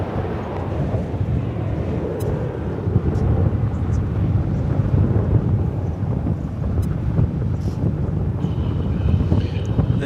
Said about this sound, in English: This American Airlines 737-800 is off to Querétaro in Mexico